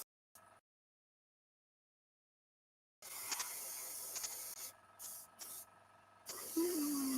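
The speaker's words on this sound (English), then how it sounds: "I just sprayed a little bit too much paint there." An aerosol can sprays paint onto a tabletop game miniature. There is a short burst, then silence, then longer spurts of hiss with brief pauses between them, fairly close.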